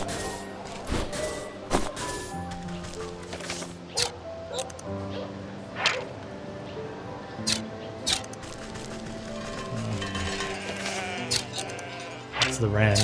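A ram bleats repeatedly in the Wytchwood video game, sharp calls recurring every couple of seconds over steady layered game music.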